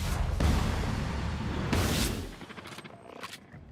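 Gunfire from the sci-fi role-playing game The Outer Worlds, with loud bursts of shots early that fade into scattered quieter reports.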